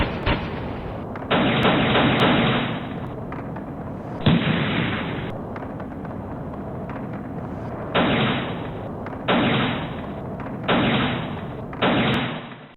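Loud bursts of gunfire during a street clash in Venezuela come in repeated sustained volleys with brief gaps between them, harsh and crackling, with no voices.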